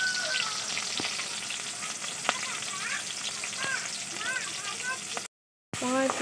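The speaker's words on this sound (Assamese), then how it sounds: "তেল দি ইয়াত পিঁয়াজ জলকীয়াখিনি এতিয়া দি দিম।" Onion and green chilli fry in hot oil in a pan, a loud continuous sizzle with crackles and scraping stirs, briefly cutting out near the end.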